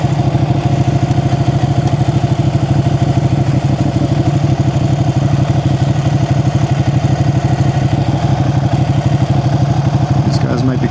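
A Ducati 899 Panigale's engine runs steadily from the rider's seat on a Sunday ride, a loud continuous throbbing drone with a fast rhythmic pulse that holds an even pitch throughout.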